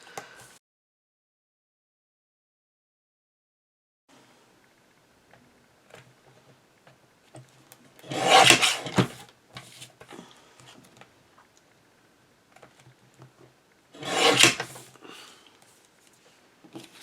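Recycled cardstock for a handmade Valentine card being trimmed along its edges: two separate brisk, close slicing strokes several seconds apart, with faint handling noises between them and no talk.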